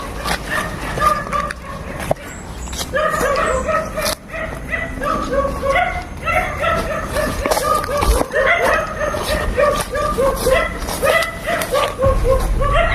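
Several dogs bark and yip almost without pause, loud and close, in a dense, overlapping chorus that continues throughout.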